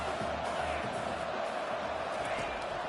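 A stadium crowd roars in the NCAA 25 college football video game, a dense, steady wash of cheering and noise at constant loudness.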